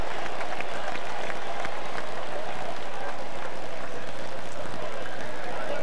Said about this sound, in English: Tony Ross brought the crowd to their feet.